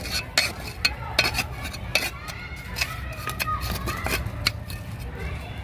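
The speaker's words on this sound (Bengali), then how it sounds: "ভালো করে এটা মাটির সাথে মিশিয়ে দিলাম" Fertilizer (10-26-26 NPK granules) being worked by hand into potting soil around a Madhabilata vine, giving gritty scraping and stirring rustles with scattered crisp ticks, close and steady under a voice talking.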